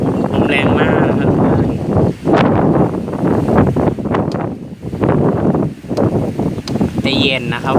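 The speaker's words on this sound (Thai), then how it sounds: "ลมแรงมากนะครับ" Strong wind gusting under an overcast sky before rain, loud buffeting roar on the microphone with swells and brief lulls, someone talking over it throughout.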